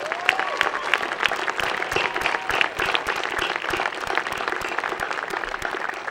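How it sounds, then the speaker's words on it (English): Graduation audience at Enfield High School applauding the graduates' parents: dense, steady clapping from a large crowd, loud and sustained throughout, with a few whoops rising above it. "Please give your parents a big round of applause."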